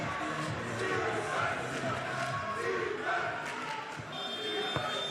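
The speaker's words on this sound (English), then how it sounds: "The crowd gets into it." Spectators cheering at a 3x3 youth basketball game, a steady wash of crowd noise with shouts and ball thumps on the court, while a commentator talks over it.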